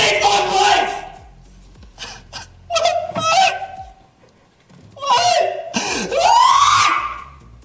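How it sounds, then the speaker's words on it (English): Female screaming and wailing in a viral clip, several drawn-out anguished cries in bursts separated by short pauses, loud and close. "This sounds like a female scream."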